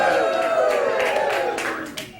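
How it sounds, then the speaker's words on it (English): A studio audience at a late-night talk show applauds and cheers in a steady, fairly loud wash of clapping, with the host's voice talking over it. "Don't applaud my tie."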